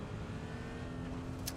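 Cars roaring and revving in a PUBG match, a steady loud engine drone with no clear crash impact, alone without talk.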